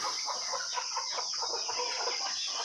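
Chickens on a poultry farm with many roosters, including a hen with five chicks. Soft, continuous clucking and chatter sit under a steady high-pitched background hiss, with no talk.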